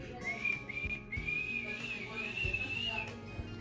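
A woman whistles with her mouth, holding one clear high tone that wavers gently in pitch for about three seconds over a faint room background.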